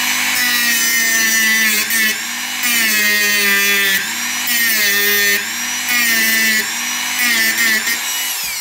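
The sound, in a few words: filing a Victorinox knife flat with a file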